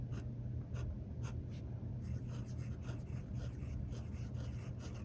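A fountain pen with a fine cursive smooth italic nib scratches steadily across paper, a soft, close, continuous scritching with faint stroke-by-stroke ticks over a low background hum.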